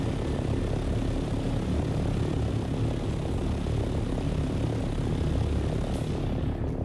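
Steady droning engine of an ornithopter flying through a desert in a video game as a sandstorm approaches, a continuous propeller-like hum holding at an even level throughout with no voices.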